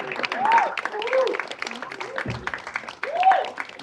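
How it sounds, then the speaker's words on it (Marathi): An audience clapping for the actors at a Marathi film event: a steady patter of applause running underneath someone speaking loudly over it. "त्याच्यासाठी जोरदार टाळ्या"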